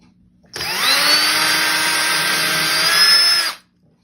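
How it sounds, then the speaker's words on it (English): A power drill whirs at a steady high pitch for about three seconds, starting and stopping abruptly, close by with no voices. "And then I'm just going to drill some holes."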